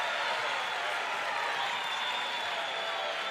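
A Fairmont State home crowd at a men's basketball championship game against West Liberty reacts to a foul with a steady, hissing roar of voices and scattered clapping, heard from a distance without clear speech.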